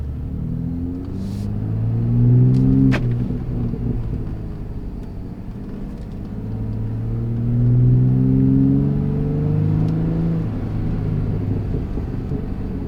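Gen 3 Ford Raptor 3.5L with AWE switch path exhaust in Baja mode, heard from inside the truck as a loud deep engine drone that swells twice under acceleration and eases off between, with no talking.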